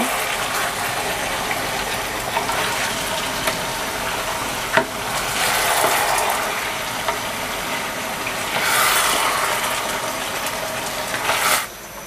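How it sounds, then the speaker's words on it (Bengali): Fish head pieces from a large fish and soaked mung dal sauté in a pan for muri ghonto, giving a steady, loud sizzle with occasional scraping clicks of stirring throughout. "মুগ ডালটা সহ মাছগুলোকে আরো একটু কষিয়ে নিব"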